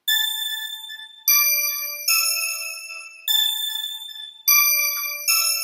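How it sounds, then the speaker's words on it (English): High synth bell tones from a rap beat being arranged in Logic Pro X strike six times at a steady pace, each a bright, chime-like note that rings and slowly fades until the next hit, with nothing else playing. "These bell sounds I'm not really liking at the moment"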